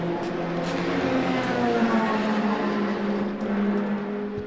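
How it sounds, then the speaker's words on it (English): A Porsche prototype race car at the 6 Hours of Silverstone sweeps past at steady, fairly distant volume, its engine a smooth droning whine that rises and falls slightly over several seconds. "There goes the Porsche."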